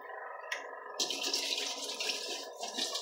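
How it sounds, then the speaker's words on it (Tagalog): Water poured from a tap or container into a cooking pot, a steady splashing rush that starts abruptly after a short trickle, with a low background hum and no talk. "Tapos lagay lang tayo dito ng tubig."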